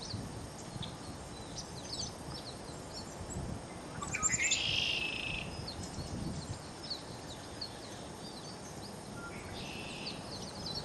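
Outdoors, a bird in a tree gives a loud, bright chirping call in the middle and then a fainter call later. Other birds chirp quietly in the distance, and no one talks.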